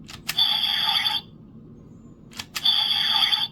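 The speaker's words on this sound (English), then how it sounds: "Pressing the trigger will cause generic blasting noises." A toy blaster fires generic electronic blasting effects: two bright, buzzy bursts about a second long, each opening with a sharp click and separated by a quiet pause, loud and close.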